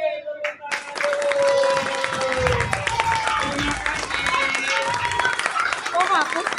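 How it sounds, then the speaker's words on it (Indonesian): Classroom applause with hands clapping steadily among students, dense and close, with voices and chatter mixed in throughout. "Oke, tepuk tangan dulu."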